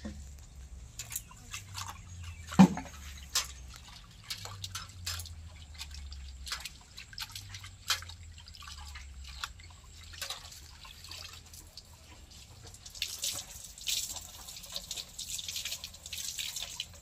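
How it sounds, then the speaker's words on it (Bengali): Water trickles and drips as something is rinsed under running water in an Indian village home, a faint, steady patter broken by small splashes and a single clunk, with no voices. "এটা ধুয়ে নিই।"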